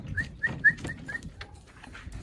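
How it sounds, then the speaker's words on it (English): A dog outdoors gives a short run of high, thin yelps or whimpering barks, several quick calls in a row that then trail off, moderately distant with no talking. "So over there's another dog over there. And my dogs get into it sometimes."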